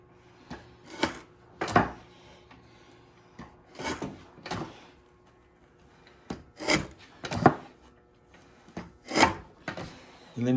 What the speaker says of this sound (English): So this is a foot-powered mortising machine.